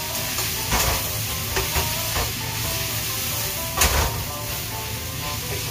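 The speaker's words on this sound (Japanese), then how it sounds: "これでまた炒めます" Pork and maitake mushrooms are stir-fried in a hot pan, with a constant close sizzle broken by a few sharp scraping stirs.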